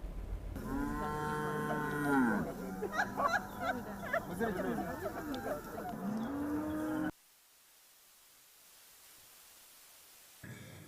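Cattle moo loudly and repeatedly at a dairy farm, long drawn-out calls overlapping with voices and background noise, then cutting abruptly to near silence.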